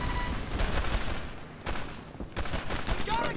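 Rapid pistol gunfire in the World War II shooter game Medal of Honor Airborne comes in loud clusters of sharp shots, one after another, with brief pauses between bursts.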